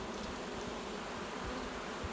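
Honeybees buzz steadily around a nucleus colony hive being installed into an eight-frame box, a dense, even hum with no pauses and no voices.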